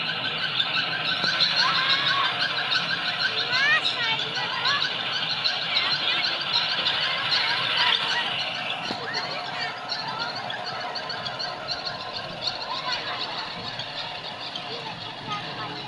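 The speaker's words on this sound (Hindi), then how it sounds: "लड़कियों ने बहुत ज़्यादा शोर मचाया हुआ है" Girls shriek and squeal continuously aboard a fast-spinning swing ride at a bazaar fair, a dense, loud chorus of high-pitched screams sustained throughout with crowd noise beneath.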